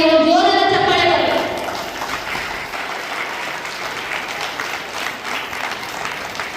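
A voice speaks briefly before a crowd breaks into sustained applause at a Catholic association event in Gulbarga where blankets are distributed to women. The clapping carries on at an even, moderate level to the end.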